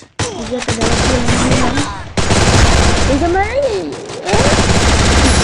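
Loud, rapid automatic gunfire in a shooting video game during a headshot kill, with dense back-to-back bursts filling the whole stretch and a brief break partway through, alongside voices.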